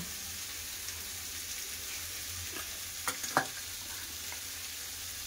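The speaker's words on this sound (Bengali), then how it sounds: "পেঁয়াজের সাথে ডাঁটাগুলো ভেজে নিয়েছি, এবার একে একে মশলা দিয়ে দেবো" Vegetable stems fry with onions in a pan as spices go in, a low steady sizzle with a brief cluster of sharper stirring scrapes and clinks near the middle, no talking.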